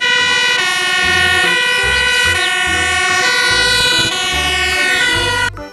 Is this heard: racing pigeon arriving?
no